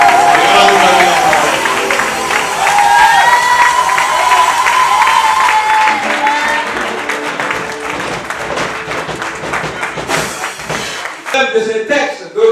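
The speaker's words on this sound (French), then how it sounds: "Je voudrais que vous acclamez le révérend Gloire Anton" Loud applause and cheering from a congregation at a Lutheran evangelical church service in Côte d'Ivoire, sustained crowd noise that gradually thins and fades toward the end.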